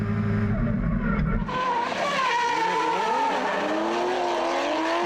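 Drift cars racing through a corner, with engines revving loudly as their pitch climbs and falls, tires squealing, and a shift in the engine roar partway through; no commentary is heard over the noise.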